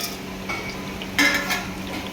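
Cinnamon, cloves and cardamom go into hot ghee in a large mutton biryani pot, followed by scraping stirs and a brief clatter of metal over a steady low cooking hum.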